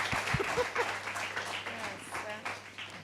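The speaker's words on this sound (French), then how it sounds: "Et on l'applaudit très fort encore une fois." An audience at a televised magic show applauds a magician. The clapping is moderate and steady, with a presenter talking over it and brief musical tones at the start.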